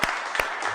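A live stage audience claps in a brief, dense burst of applause to welcome performers, with a few sharper hand claps standing out.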